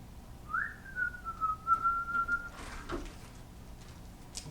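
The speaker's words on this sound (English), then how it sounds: "There they were, whistling away at the end of the story." A cheerful little tune is whistled as a happy ending to a children's story, a thin gliding note held steadily for a couple of seconds, fairly quiet, followed by soft clattering.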